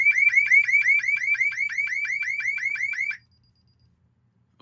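A DSC Neo alarm system's wave 2 siren wails loudly up close in rapid repeating sweeps for about three seconds, then cuts off abruptly into silence.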